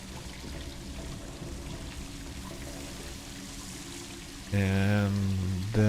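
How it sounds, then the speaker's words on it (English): Water pours steadily into a well on the Livonia map in DayZ, a continuous rushing stream that suddenly gets louder near the end as a voice joins in. "And that stream of water just appeared. It means that we are almost full again."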